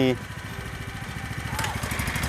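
Small engine of a new walk-behind four-row rice transplanter working in a flooded paddy, running with a steady, rapid mid-pitched chug throughout, close and fairly loud, while someone talks over it.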